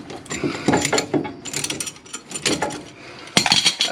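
Ratcheting brake caliper piston clamp tool working on the front brakes of a Ford F-150, giving a series of close, sharp metallic clicks in irregular bursts.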